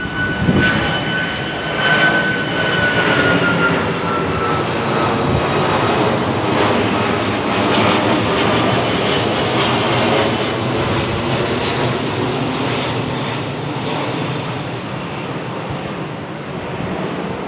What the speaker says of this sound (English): I can film the plane coming over my head as I speak